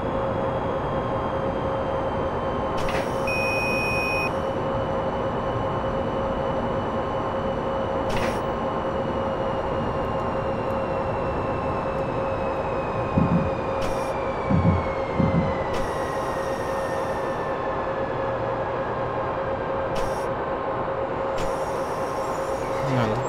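Train Simulator 2017 train running: a steady electric rumble and whine with a sustained tone, joined by brief bursts of higher hiss and a few clunks, continuous throughout and without talking.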